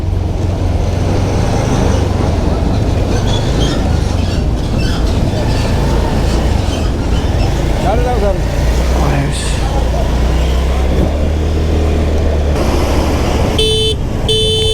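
Dense road traffic crawls past a police checkpoint near a toll plaza, a loud continuous roar of engines and wind with rattling passes and a cluster of horn honks near the end.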